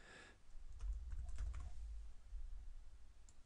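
Fingers tap quickly on a computer keyboard, a close run of soft clicking keystrokes over a faint low hum, with no voices.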